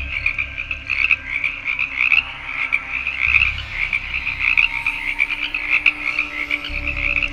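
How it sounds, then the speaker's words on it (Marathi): Frogs croak continuously at night in dense jungle growth, a loud, steady, rhythmic chorus of repeated calls with no voices over it. "रातकिड्यांची किरकिर, बेडकांचा आवाज रात्रीच्या त्या गंभीर वातावरणाचा त्यांना अंदाज करून देत होता"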